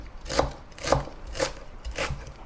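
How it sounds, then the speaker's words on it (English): Four crisp knife chops cut celery stalks into short pieces on a cutting board at an even, unhurried pace, close up and without talking. "Cut the stalk into short pieces"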